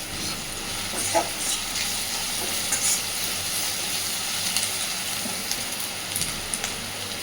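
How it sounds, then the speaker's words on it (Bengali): Grated ginger and garlic fry in a pan, giving a steady, close, even sizzle with faint crackles and occasional stirring scrapes; no voices are heard. "আদা রসুনটা দিয়ে খুব ভালোভাবে আদা রসুনের কাঁচা গন্ধটা যাওয়া পর্যন্ত একটু ভেজে নেব আগে।"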